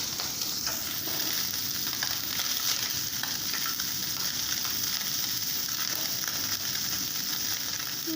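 Mourola fish sizzling in hot oil in a pan after being turned onto the second side, a steady, dense crackle heard up close with light stirring and no speech.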